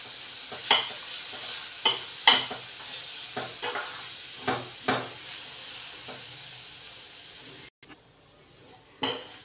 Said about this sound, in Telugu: పెసరపప్పు ఈ తొక్కు కలిపి ఈ బ్రౌన్ కలర్ వచ్చినంత వరకు వేయించుకోవాలి